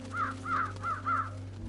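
Crows perched on a TV antenna caw four times in a steady rhythm over a low constant hum in the video game Trüberbrook, loud and close.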